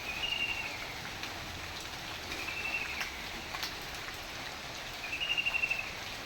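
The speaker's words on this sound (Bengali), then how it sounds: "আবার বৃষ্টি পড়তে আছে।" Steady rain falls outside a village home, a soft continuous hiss of drops on surfaces with faint high chirps now and then, and no voices.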